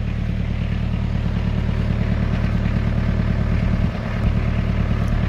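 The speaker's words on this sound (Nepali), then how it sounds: "ट्र्याक्टर चलाउन जाँदैछु।" A tractor engine runs inside a greenhouse being levelled, giving a close, steady low chugging drone with a brief dip in level partway through.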